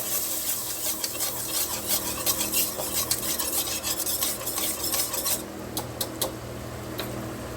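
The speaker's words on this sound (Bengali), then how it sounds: "এই ময়দাটা দিয়ে দেবো এর মধ্যে যতক্ষণ ময়দাটা মিশবে ততক্ষণ একটু নাড়িয়ে যেতে হবে" Flour gets stirred into onions frying in a pan, giving a continuous scraping and rubbing of a spoon against the pan over a soft sizzle. A few sharper taps come near the end, and nobody talks.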